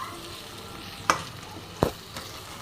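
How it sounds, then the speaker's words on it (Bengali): Chicken and vegetables sautéing with spices in a pan over a low flame: a soft, steady sizzle, broken by two sharp spatula knocks against the pan. "দেখো আমি সুন্দর করে চিকেনের সাথে সবজিটা কিন্তু একসাথে আবার কষছি"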